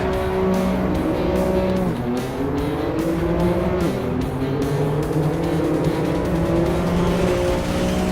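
Engine of a car driven in the Assetto Corsa EVO racing game, a loud, steady drone with rising and falling pitch as it shifts gears, brief tire scrubbing throughout, no talk.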